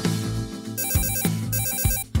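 A telephone rings close by with a bright electronic ringtone, repeating in quick regular bursts of trilling tones over a steady musical backing, with no talking over it.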